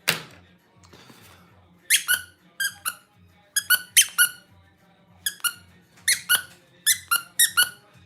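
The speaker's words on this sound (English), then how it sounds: "Anything that squeaks, he has to go get it." A squeaky toy is squeezed repeatedly in quick, uneven bursts of sharp, bright squeaks, some in pairs and clusters, close and loud against a quiet room with faint low thumps between.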